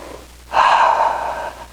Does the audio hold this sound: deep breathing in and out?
yes